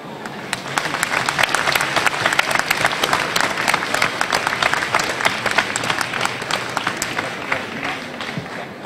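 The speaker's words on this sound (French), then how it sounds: "Voilà donc un grand applaudissement pour nos 3 lauréats du premier concours mondial des cacaos paysans bio et équitables" A crowd applauds three winners at an award ceremony for an international competition of organic fair-trade farmer cocoas at a chocolate fair, with steady loud clapping and a few sharp individual claps standing out throughout.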